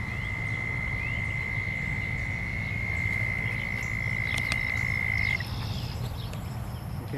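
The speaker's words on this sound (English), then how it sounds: "You can hear one of the frogs in the background there." A frog croaks in a steady, sustained trill from a short distance, ending abruptly, over a quiet outdoor background with faint clicks.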